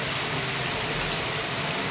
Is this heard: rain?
yes